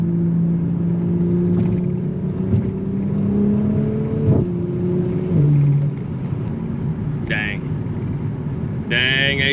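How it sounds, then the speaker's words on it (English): An Audi B9 S4 fitted with an AWE Track Edition exhaust accelerates hard from inside the cabin, its engine drone climbing steadily in pitch before dropping at shifts, with someone talking over it. "You guys know how to make an exhaust. That sounds really good."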